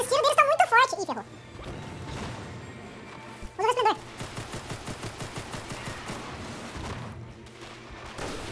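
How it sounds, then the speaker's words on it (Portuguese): Rapid bursts of enemy gunfire crackle through a busy soundtrack in the video game Destiny: The Taken King, with sharp repeated shots and some chaotic background noise. "esses tiros deles estão muito fortes"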